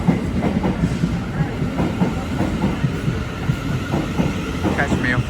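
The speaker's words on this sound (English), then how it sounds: "700 116 with the 10:07, attempting service from Euston to Peterborough." A Class 700 electric multiple unit, number 700 116, on a Euston to Peterborough service rolls past close by at a London terminus, with continuous rumble and repeated clickety-clack of wheels over rail joints, and a faint squeal near the end.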